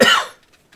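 A single short, sharp cough bursts out loud and close, then quickly trails off into near silence.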